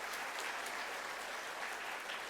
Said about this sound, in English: A big applaud